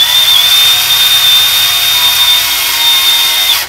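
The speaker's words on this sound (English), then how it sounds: "the key to drilling stainless is you don't want this drill bit turning while not producing a spiral of metal or chips of metal coming off" A drill bit boring through a thin stainless steel brew pot gives a loud, close, steady high-pitched whine that runs continuously for a few seconds and then cuts off abruptly.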